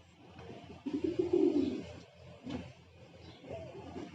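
A pigeon gives a short, low, throaty coo up close, followed by quieter murmurs and faint rustling, with no talk.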